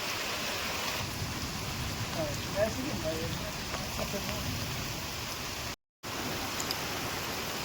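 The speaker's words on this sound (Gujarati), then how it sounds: "કચ્છની અંદર ધોધમાર વરસાદ" Heavy rain pours down in a Kutch village, a dense, constant roar of close rainfall that holds steady throughout, briefly cutting out near the end before resuming.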